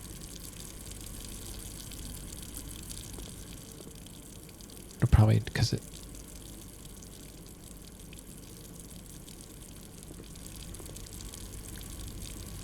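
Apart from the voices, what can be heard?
water flowing in Blue Prince video game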